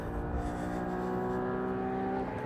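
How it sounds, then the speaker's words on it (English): Porsche sports car engine on a Grand Prix race track, a steady loud high-revving drone with strong harmonic tones held throughout, no voices. "Listen to that motor, it just sounds fantastic"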